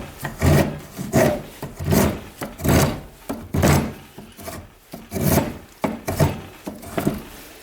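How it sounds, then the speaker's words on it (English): Rhythmic hand-tool cutting of long-fallow mulberry wood on a lathe, a series of about a dozen scraping, rasping shaving strokes in a steady repeating rhythm, close and fairly loud, with no talk. "Just getting these little shavings off."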